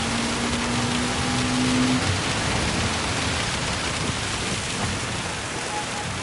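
Steady rain and rolling thunder from a wet race in the racing video game Gran Turismo 7, a dense continuous wash of downpour with low rumbles, loud and unbroken with no talk.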